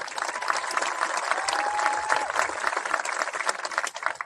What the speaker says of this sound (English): Yes, absolutely, we can clap for her.